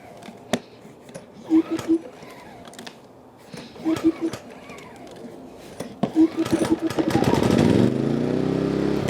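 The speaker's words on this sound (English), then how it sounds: "pull this by the cord and get this to fire up" A pull cord on a GENMAX 4600iAEFC fuel-injected generator is yanked three times with rattling bursts, and on the last pull the small engine catches and keeps running with a steady chugging roar.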